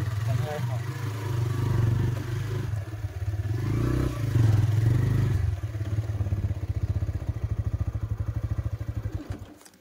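A motorcycle is ridden up a sandy riverbank near an old bridge, its engine drumming steadily and close, then thumping in rapid pulses as it strains toward the end, with voices talking over it.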